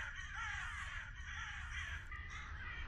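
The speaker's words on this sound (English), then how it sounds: "Those crows just dancing on the screen." Crows caw steadily and loudly in the video game Gray Dawn, a dense, continuous cawing that fills the whole stretch with no voices over it.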